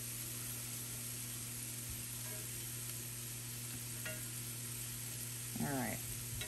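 Bacon fries in bacon grease in a pan while breakfast is cooked at a cabin, a faint, steady sizzle over a low electrical hum, with a few light clinks and a brief wavering vocal sound near the end.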